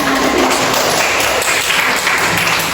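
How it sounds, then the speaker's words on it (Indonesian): A school class bursts into loud, dense applause, many hands clapping at once in a continuous close wash of sound. "Tepuk tangan."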